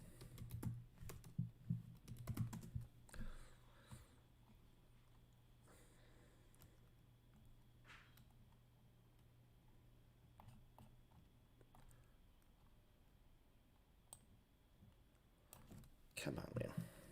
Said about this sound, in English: I can't see my board when I'm typing here.